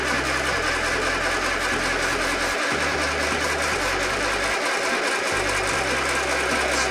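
An old MG Midget engine, abandoned for years, cranks over on the starter without firing, giving a steady loud rhythmic churning that cuts out briefly twice, close up and continuous.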